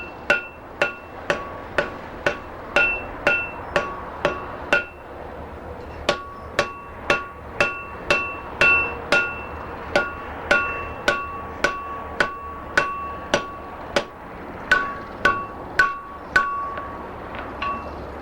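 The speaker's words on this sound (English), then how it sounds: "We are right on welding temperature, and I will weld it over." A hammer rhythmically strikes a hot pattern-welded knife billet during forge welding, giving sharp, ringing metallic blows in quick steady series with brief pauses between groups, loud and close.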